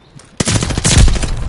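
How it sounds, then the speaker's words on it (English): Rapid gunfire bursts from a video game gun after a brief quiet lead-in, a loud, dense string of close shots that continues to the end with no talk. "this gun I'm using right now is the slowest fire rate ever"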